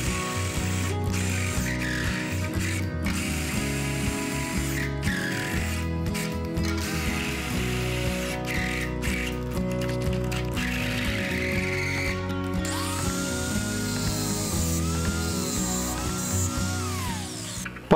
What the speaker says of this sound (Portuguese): Passa o corte de um lado e do outro com a esmerilhadeira